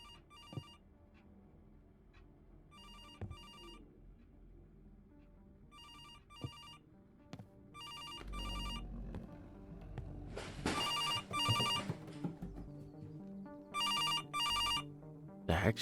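Telephone in the video game Pieces Of Me rings in repeated double bursts of electronic trills, spaced evenly a few seconds apart, with scattered clicks and rising background activity between rings.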